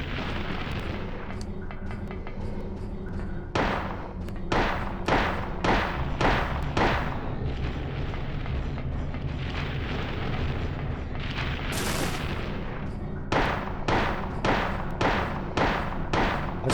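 Shotgun blasts in a video game: heavy, booming shots arrive in quick clusters over a rumbling game backdrop, with a loud hissing burst midway and no one speaking.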